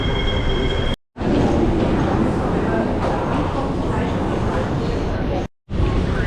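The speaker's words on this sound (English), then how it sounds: "We'll get on a train." An airport terminal train rolls along, with a loud rumbling ride and wheel noise filling the carriage and two brief dropouts, plus some muffled voices in the background.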